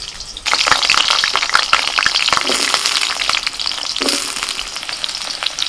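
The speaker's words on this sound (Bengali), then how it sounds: "ওই তেলের মধ্যে আলুটা ভেজে নেব।" Potatoes frying in hot oil after paneer in a home kitchen, a loud, dense, continuous sizzle close by with occasional stirring scrapes.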